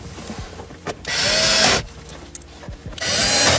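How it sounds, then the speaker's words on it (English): Power screwdriver driving two Phillips head screws into radio trim on a 2013-2017 Honda Accord during a CarPlay head unit install, two loud whirring bursts of about a second each separated by quiet handling clicks. "And then we'll be putting in our 2 Phillips heads to hold that in."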